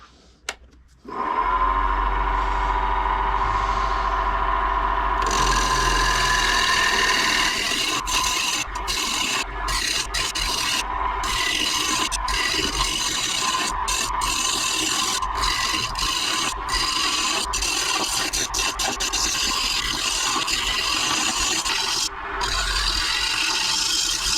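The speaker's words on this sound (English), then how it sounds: "I'm going to start shaping this bowl a little while I got it already tight in the lathe" A wood lathe spins a bowl blank for a double-decker serving platter while a tool shapes it, giving a loud, continuous scraping rasp with brief breaks as the cut is lifted and reapplied.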